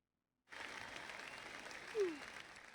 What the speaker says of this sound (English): Now then, a big round of applause.